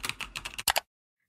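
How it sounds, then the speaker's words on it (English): Rapid typing on a computer keyboard, a close burst of clattering keystrokes ending in two heavier key presses, then silence. "That is a lot of typing just to move one folder into another folder."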